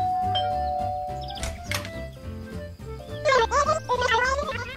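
A cartoon doorbell chimes in an animated scene about student technology, a bright ding-dong tone over music and character voices, with busy high melodic sounds following.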